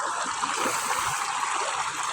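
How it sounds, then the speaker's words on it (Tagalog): Cold river water flows swiftly at Santa Fe, a continuous close rushing and babbling stream that stays loud and steady throughout, with no voices. "Ayan o, maagos, malamig na tubig."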